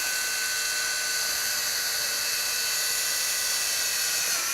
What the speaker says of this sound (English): I'll grab my drill and I'll drill.